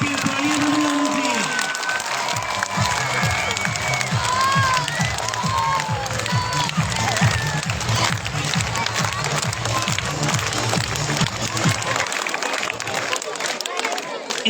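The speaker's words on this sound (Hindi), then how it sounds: "तो सचिन जी के लिए जोरदार क्लैपिंग तालियां बजाना चाहिए।" An audience at a school Teachers' Day celebration claps steadily and rhythmically for a guest being called to the stage, mixed with crowd noise, children's voices and cheering throughout.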